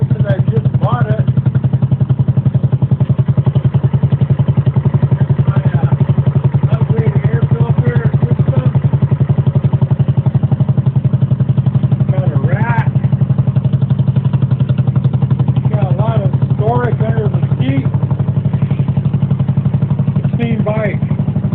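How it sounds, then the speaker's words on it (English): A used 2022 Amigo scooter motorcycle engine runs at a steady idle throughout, a constant low drone with light mechanical clatter, while someone talks over it. "Good little scooter for putting around town."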